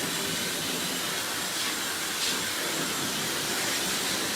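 A hair dryer blows on a short pixie haircut, a steady close airy roar and hiss that continues unchanged throughout.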